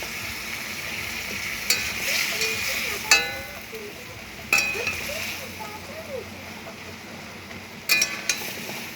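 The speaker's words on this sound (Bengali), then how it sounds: "এখন একটু নাড়াচাড়া করে দেবো।" Spice paste of green chillies and mustard seeds frying in oil in a pan, a steady hiss of sizzling with a few sharp clinks of a spoon stirring against the metal at intervals.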